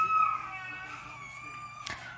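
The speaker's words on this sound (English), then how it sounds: "My child's screaming." A child screaming and crying at home, a sustained high wailing tone that starts loud and gradually weakens, with a short sharp outburst near the end.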